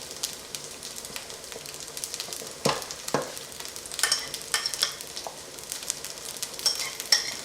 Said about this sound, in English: I kept mixing it so that the powder will fully dissolve, and it's also getting a little thicker.